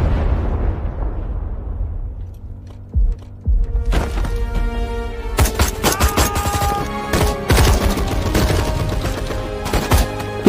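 A war film battle with Indian soldiers attacking Pakistani positions: a deep explosion boom fading out, then loud dense bursts of rapid gunfire crackling and popping in quick succession.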